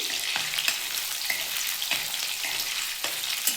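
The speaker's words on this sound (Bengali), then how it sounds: "যে মাছের তেলটা ছিল আমি ওইটা দিয়ে একটু নেড়ে দিচ্ছি" Hilsa fish oil sizzles and fries in a pan while being stirred, a steady close hiss broken by regular soft scraping strokes from the spatula, with no talking.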